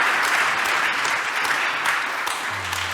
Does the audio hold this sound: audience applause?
yes